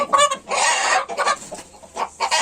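Ornamental chickens and roosters clucking and squawking loudly up close, several overlapping calls in quick bursts with short gaps between them.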